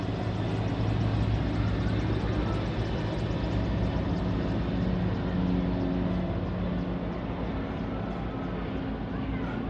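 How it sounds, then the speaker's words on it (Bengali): Two helicopters on patrol pass low over a house rooftop near a prison, a steady loud rotor and engine roar that holds throughout with no clear rise or fade. "দুটি হেলিকপ্টার একসাথে টহল দিচ্ছে।"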